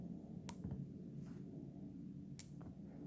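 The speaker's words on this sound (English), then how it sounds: "Listen to the cling that they make midair. Hear the very high-pitched ting?" Two bright, high-pitched metallic tings from copper pennies clinking together in midair, about two seconds apart, over a low background rumble.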